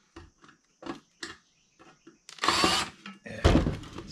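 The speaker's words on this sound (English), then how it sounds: "We're just gonna drill them out." Power drill boring out rivets on a 1981 Huffy bicycle, two bursts of high-pitched grinding whine, the second louder, after a run of short clicks and taps.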